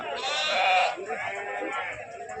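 A sheep bleats loudly and close by at a sheep market in Gudur, Nellore, a wavering cry followed by softer bleating and background murmur.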